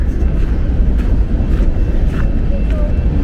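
Heavy wind buffets the microphone in a constant low rumble on the Seattle waterfront, with faint voices barely audible underneath.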